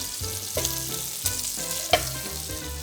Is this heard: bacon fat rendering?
yes